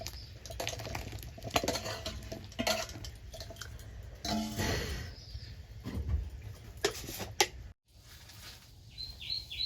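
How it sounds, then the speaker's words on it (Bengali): Pieces of bottle gourd are dropped into simmering dal with green chilli and ginger paste, then stirred; close, uneven clattering and scraping of a spoon against the pot with a brief quiet gap near the end. "এবার আমি লাউগুলো দিয়ে দেবো।"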